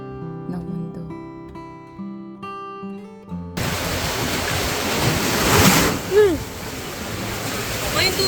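Suddenly enlarged ocean waves, surging into a seaside house, crash and roar loudly and steadily after a short stretch of music, with a whoosh of wind and surf swelling near the end.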